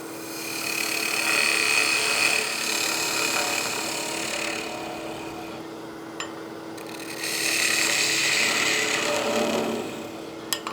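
A woodturning lathe trues up the face of a figured maple box, a tool scraping against the spinning wood in two sustained hissing passes separated by a brief quieter lull, with a steady motor hum underneath.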